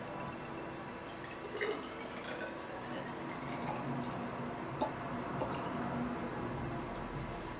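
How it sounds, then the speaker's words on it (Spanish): About 100 millilitres of water trickles into a graduated cylinder, a faint, close run of small drips and gurgles with a few louder splashes over several seconds. "Antes voy a medir en una probeta, como esto, 100 mililitros de agua."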